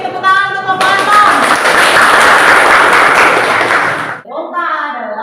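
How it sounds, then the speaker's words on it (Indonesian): A classroom of students claps for a presenter after a successful voltaic cell experiment, a dense burst of clapping that starts abruptly after some talk and stops before talking resumes. "tepuk tangan untuk Bapak Anton"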